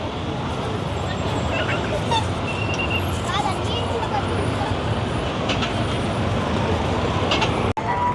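Heavy street traffic in a crowded Colombo area during Christmas celebrations in Sri Lanka, a continuous loud roadway rumble with engines and scattered faint horn blips, a sharp knock near the end.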